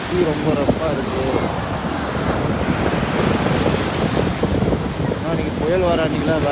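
Cyclone Fengal churns the sea at Pattinampakkam beach, Chennai, into a constant heavy surf roar mixed with gusting wind noise, and a voice talks over it near the start and end.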